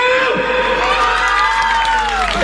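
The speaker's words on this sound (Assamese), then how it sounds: "এতিয়া আমি ছোৱালীখিনি কাৰণে এটা হাত তালি চাওঁ" Audience at a spring festival stage show at Rajapukhuri Satra cheering and whooping for the girls, a loud crowd roar with rising shouted voices and some clapping.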